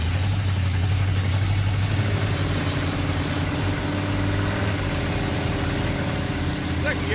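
A 1964 Chevrolet Malibu engine runs under way with a steady low rumble and droning hum that shifts in pitch partway through, loud and close, with voices talking over it.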